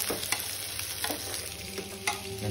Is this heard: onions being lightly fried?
yes